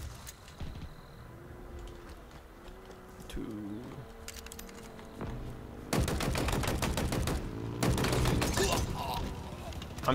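Scattered game gunfire in Halo Infinite big team battle, with sparse shots early then dense rapid automatic bursts later, loud and close, while voices talk underneath.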